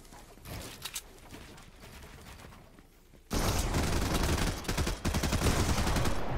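Fortnite shotgun fire in a 2v2 Zonewars match: scattered distant shots at first, then a loud, close stretch of rapid, overlapping blasts and gunfire that carries on to the end.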